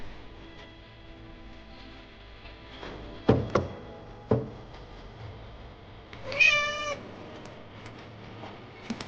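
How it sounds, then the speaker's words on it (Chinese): A small kitten meows a few times, short clear calls with a louder drawn-out one later, alongside a couple of sharp knocks or taps nearby, with no talking. "哪里来的小猫啊？"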